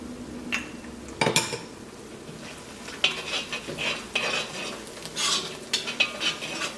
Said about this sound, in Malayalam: ഈ മഞ്ഞൾപ്പൊടി ഇതിനകത്ത് ചേർന്നിട്ട് നന്നായിട്ട് മുരിയണം